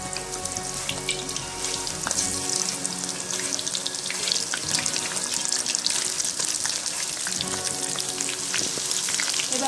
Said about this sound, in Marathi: तेल आता गरम झालेलं आहे त्यामध्ये मी डायरेक्ट वेपर खिसून घेणार आहे